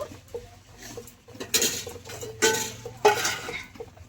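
A pot of cooked kalai dal with boiled vegetables is lifted off the stove: a few close metallic clanks and scrapes of pan against burner, spaced over a few seconds, with no talking.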